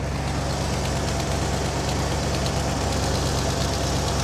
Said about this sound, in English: Let's see if his engine's quieted down a little bit